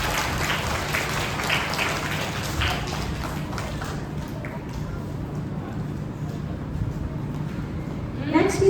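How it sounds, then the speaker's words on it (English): Applause from a school audience at a Class 3 elocution and debate event, a continuous spread of clapping with a voice faintly audible through it, lasting several seconds before trailing off. "So please clap for Advait."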